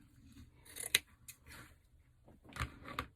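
Scissors snip through flower material for a wreath centre, several quiet crisp cuts spaced irregularly, close by, with faint rustling between them.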